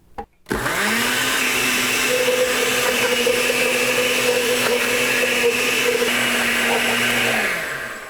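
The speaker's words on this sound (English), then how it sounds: "Now we'll put the honeydew into my ancient blender" An ancient blender whirs loudly and steadily as it purees honeydew melon chunks for a smoothie, starting after a brief click and winding down at the end.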